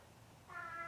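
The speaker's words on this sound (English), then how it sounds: "my cat is meowing in the background helping me out" A house cat meows faintly in the background, one brief rising tonal cry in the second half, quiet against a low room hum.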